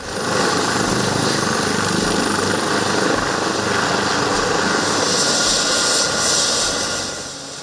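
Loud, continuous roar of a Kenyan military aircraft engine droning steadily, with no speech, fading slightly at the end.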